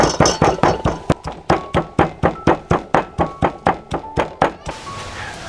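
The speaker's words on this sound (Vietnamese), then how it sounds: "Mình bằm thịt, mình bằm lên cái thớt này" Rapid, rhythmic chopping thuds of meat being minced on a wooden cutting board, about twenty strikes in steady succession, close and loud.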